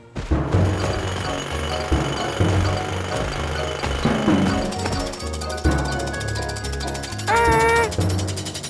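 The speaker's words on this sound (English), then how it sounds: "We need to stop that drill, Morphle." A loud mechanical drill in a children's cartoon runs continuously with heavy rattling and pounding, joined briefly near the end by a rising whistle-like tone.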